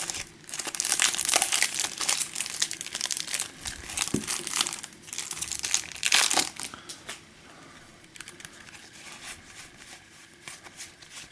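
Plastic wrapping on Marvel Champions card packs is torn open and crumpled close up, with loud bursts of crinkling and tearing that ease into quieter rustling toward the end.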